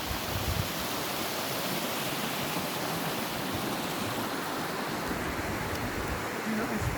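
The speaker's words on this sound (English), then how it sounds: "You can hear the sound of the water is changing as it's moving quicker." River water rushing faster as it nears a waterfall in the Brecon Beacons, Wales: a dense, continuous broadband roar, steady and fairly loud, with the flow swelling slightly toward the end.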